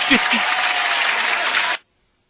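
Dense, full applause roars for under two seconds, with a brief voice at the very start, then cuts off abruptly into silence.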